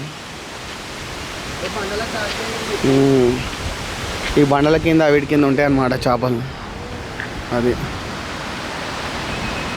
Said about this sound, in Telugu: ఇదే అనమాట మన తెలంగాణ వాటర్ ఫాల్స్